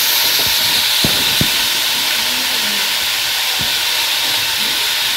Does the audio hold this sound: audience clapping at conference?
no